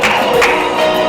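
At a church gala night, the crowd breaks into quick steady clapping, a loud close wash of many hands with a faint murmur beneath.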